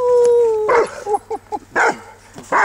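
Weimaraner hunting dog barking during a moose hunt, a rapid burst of sharp yips and barks following a long howling whine, close and loud with gaps between volleys.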